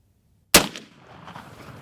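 A single sharp, loud report from a suppressed Freakin 45 pistol cracks out of silence after a trigger pull, followed by a short ringing decay and a low lingering rustle.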